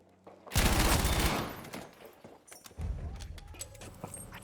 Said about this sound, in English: It's a very nice sounding gun with the 900 rounds per minute.